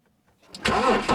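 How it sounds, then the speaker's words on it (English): A car engine cranks and catches after a jump start from a TOPDON JS1500 portable jump starter, a brief faint crank rising quickly into a loud close running roar. "it was able to start it again on the same charge"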